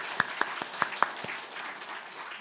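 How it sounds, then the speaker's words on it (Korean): At a church service, a congregation welcomes a member with a short burst of scattered clapping: about half a dozen distinct, crisp claps in the first second, then fainter, sparser ones that die away. "우리 곽상구 성도님 환영의 마음으로 박수로 드리겠습니다"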